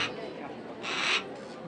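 A Harris's hawk calls from close by at a falconry display, giving two loud, harsh screeching bursts with a pause between them. Faint background noise runs underneath.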